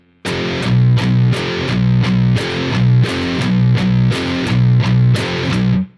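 Heavily distorted baritone electric guitar grinding out a chugging power chord riff with shifting accents, loud and close with repeated palm-muted hits, alone with no voices, ending abruptly.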